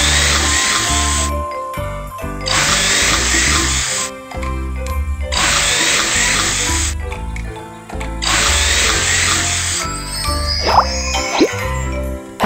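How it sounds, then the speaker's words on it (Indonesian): A cartoon drill bores holes in ice for ice fishing, three loud whirring bursts in a steady on-off rhythm, followed by a light tinkling jingle. "Pertama-tama, bor beberapa lubang di atas es."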